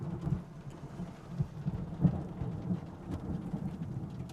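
Steady rain falls through a thunderstorm during a storm chase, with soft low rumbles of thunder rolling under the hiss and a slightly stronger rumble near the middle, heard alone without voices.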